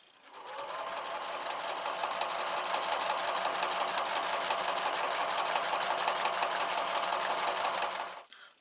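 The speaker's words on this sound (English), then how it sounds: "We're going to stitch through the fabric and through the paracord again" A sewing machine stitches through ripstop nylon parachute fabric and paracord, a steady, rapid mechanical whirr and needle chatter running continuously for about eight seconds before stopping, close and alone.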